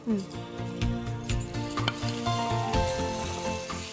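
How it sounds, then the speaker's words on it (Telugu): A spoon stirs rice through a hot, sizzling pan for vamu annam (ajwain rice), with scraping strokes over a constant close crackle and faint background tones. "రైస్ వేసేస్తాం స్పూన్ కొంచెం కలుపుతూ ఉంటారా"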